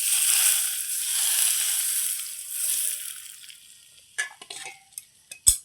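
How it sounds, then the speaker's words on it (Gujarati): Hot oil is poured over chillies for rayta marcha, setting off a loud, bright sizzle that gradually dies down, followed by a handful of sharp clicks and taps from a spoon against the bowl. "આપણે આ તેલ એ ગરમ કરી આવ્યા છીએ અને હવે આમાં નાખી દેવાનું"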